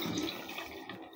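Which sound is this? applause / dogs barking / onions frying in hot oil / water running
water running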